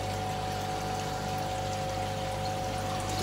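Water from a heat pump outlet pours steadily into a sink, a continuous splashing stream with a low mechanical hum beneath, close and even throughout.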